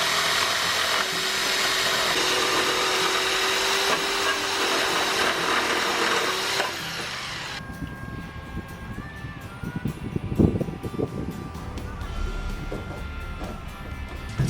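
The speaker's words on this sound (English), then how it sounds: "So we've bought our jigsaw and we've bought our cutting table." A jigsaw cuts wood panels for a van roof conversion, a loud continuous buzzing saw for the first half, then stopping and starting with clatter and handling noise, close up.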